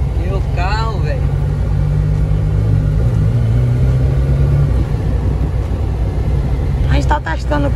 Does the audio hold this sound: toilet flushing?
no